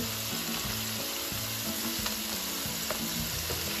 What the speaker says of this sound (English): So here we have the patties cooking.